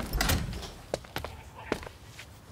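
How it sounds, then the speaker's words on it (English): Indoor door pushed shut, an initial scrape and thud followed by a couple of lighter clicks and knocks, close and moderately loud in a quiet room. "Shut the door."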